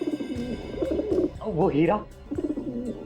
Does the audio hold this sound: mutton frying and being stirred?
no